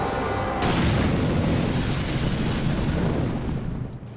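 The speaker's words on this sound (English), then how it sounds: "They think it's a hand grenade." A hand grenade blast erupts suddenly after a brief quiet moment, a loud broadband boom that rolls on with a long, noisy rumbling tail before fading slightly near the end.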